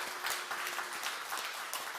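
Worshippers at a Won Buddhist Sunday service at Yeoksam temple break into applause, a steady crackle of many hands with distinct claps poking through, moderately loud and without speech.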